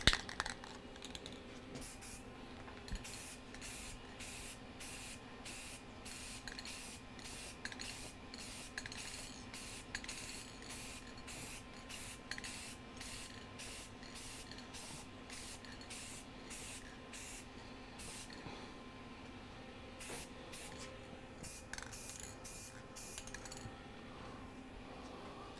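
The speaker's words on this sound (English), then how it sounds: "So we'll hit the bottom of this with our favorite rattle can red" Red rattle-can spray paint hisses onto a tail rotor in many short, quick bursts with brief gaps between them, fairly faint, running almost the whole time and then breaking up near the end.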